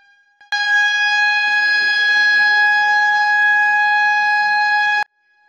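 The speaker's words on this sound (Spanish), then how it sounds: "se activa el sonar de la sirena" A fire station's emergency siren at a volunteer firefighter base in Ecuador blares as one loud, steady multi-tone wail for about four and a half seconds, then cuts off abruptly, with faint voices low beneath it.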